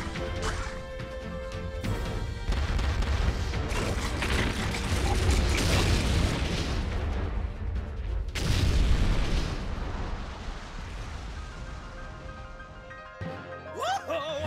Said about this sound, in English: Fire the cannons at will.